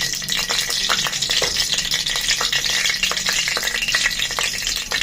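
Bay leaf, cardamom and cinnamon fry in goat fat in a pan, giving a steady, close sizzle with a scattering of crackles and pops throughout.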